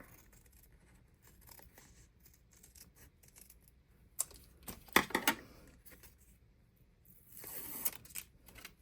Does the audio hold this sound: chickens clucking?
no